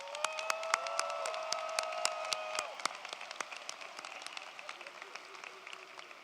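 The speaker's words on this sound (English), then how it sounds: "Let's give them a round of applause." An audience claps at a university College of Education commencement ceremony, sustained crisp applause that thins into scattered claps, heard over a brief held tone from the hall.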